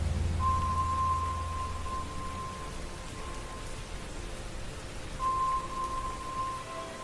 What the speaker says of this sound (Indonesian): Hujannya dari tadi sore sampai sekarang belum reda-reda juga.